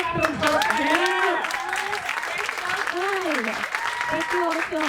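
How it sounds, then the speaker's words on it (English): Audience applause at a Cannes talk rolls on steadily throughout, with voices and cheering mixed into the dense clapping. "Let's give a round of applause."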